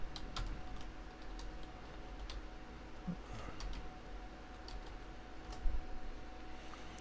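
Quiet, irregular tapping on a computer keyboard as a name is typed into a project folder, with scattered soft key clicks over a faint steady background hum and no speech.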